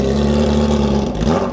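A Honda Fan motorcycle with only a straight exhaust pipe revs close by. The engine roars loud and raw, holding a steady, gritty growl through the short burst.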